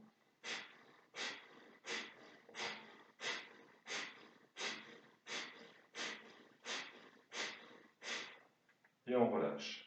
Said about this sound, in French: Respiration par le nez, une dizaine de respirations.